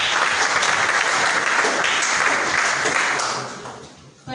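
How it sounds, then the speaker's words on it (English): An audience at a political party retreat applauds a leader, with dense, loud clapping filling most of the stretch before it tapers off near the end. "We may applaud him once again."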